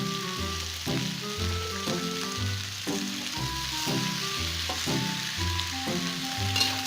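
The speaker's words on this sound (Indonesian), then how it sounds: "Ieu tah pakcoyna abreskeun." Pak choy and other vegetables frying in a pan give off a steady, close sizzle throughout, with background music playing over it.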